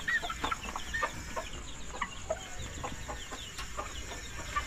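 Chickens and young chicks in a new coop, a mix of soft clucks and thin peeping calls scattered through a steady background, fairly close and with no talking.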